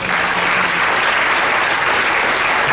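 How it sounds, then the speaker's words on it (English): An audience at a sixth grade school winter concert gives a loud, dense, sustained round of applause that stays even throughout, with no talking over it. "So one more big round of applause."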